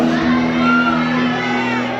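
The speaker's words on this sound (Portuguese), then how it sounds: "dá pelo menos um grito de aleluia" A church congregation shouts and whoops together during a sermon, a dense crowd roar of overlapping voices held steadily throughout with a droning tone underneath.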